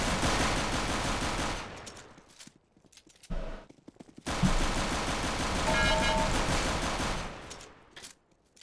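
Rapid bursts of gunfire in a Counter-Strike co-op game crackle through most of the clip with brief gaps, dense and loud, like automatic weapons firing.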